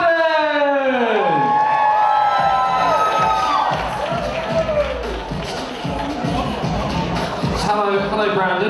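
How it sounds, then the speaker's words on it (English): A studio audience cheers and whoops loudly as a contestant is brought on at a dating show, with a steady crowd roar, shouts and excited voices mixed throughout. "Everybody give a big round of applause to"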